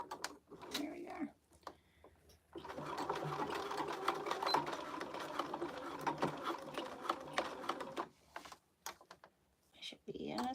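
A sewing machine stitches a seam on a handmade Rae crossbody bag, running steadily for several seconds in the middle, with a person talking before and after and faint cooing in the background.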